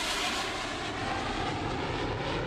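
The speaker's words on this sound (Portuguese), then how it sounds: "Na pista à frente deles está um Bombardier CRJ pronto para decolar." Bombardier CRJ jet airliner waiting on a runway before takeoff, its engines giving a steady, loud broadband roar that holds constant throughout without any talk.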